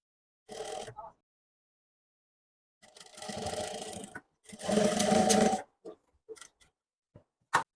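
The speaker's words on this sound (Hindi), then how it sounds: "ऐसे यहाँ पे अच्छे से आपने रखते जाना है और सिलाई से अटैच करते जाना है।" A sewing machine stitches potli buttons onto a garment neckline in several short bursts: a brief run, two longer runs of close, near stitching, then a few quick taps, with silent pauses between.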